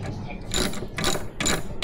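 Socket wrench ratcheting a 10mm hex bolt on the front fork of a Honda Click 125 during a fork repack, heard as three short bursts of rapid clicking over a steady low workshop hum.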